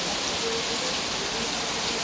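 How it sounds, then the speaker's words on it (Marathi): Morning rain in a Marathi village, a steady, dense hiss of falling drops and rain on surfaces, constant and fairly loud throughout with no voices. "सकाळच पावसाची हजेरी बघा"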